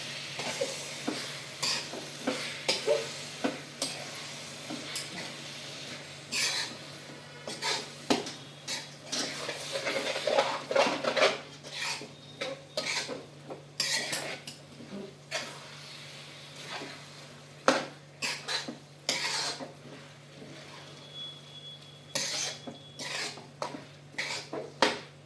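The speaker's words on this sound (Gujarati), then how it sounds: "હવે હું એને હલાવી દઈશ" A salted eggplant mixture stirred in a pot, giving irregular scraping and clattering of a spoon against metal with soft squelches, close and fairly quiet over a low steady hum.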